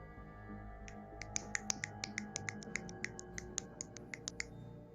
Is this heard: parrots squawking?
no